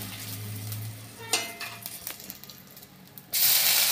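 Cumin seeds and a bay leaf tempering in hot oil for oats khichdi, a low hiss followed by scattered crackles and a spatula scrape, ending in a sudden loud, broad sizzling rush as more goes into the pan.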